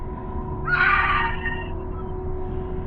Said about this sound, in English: From somewhere in the darkness, the group suddenly hears loud screaming.